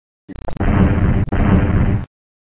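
A loud video game explosion from The Earth Lords, opening with a quick stutter of small pops and then a heavy, rumbling blast in two close bursts separated by a brief break, ending abruptly.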